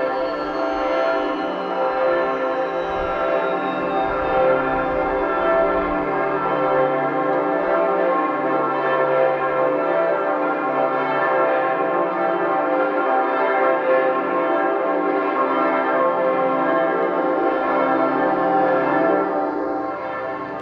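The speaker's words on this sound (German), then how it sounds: "begannen in ganz Freising die Glocken zu läuten" Church bells ring out across Freising in Bavaria as a papal helicopter lands in 2006, a dense, continuous peal of many bells with steady, sustained loudness throughout.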